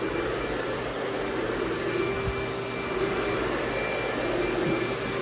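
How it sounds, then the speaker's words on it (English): A Lindhaus Diamante 300 vacuum cleaner's suction motor runs steadily and evenly, with a constant whoosh of airflow and a high motor whine held at one level throughout. "it may be about the quietest suction motor in the whole collection"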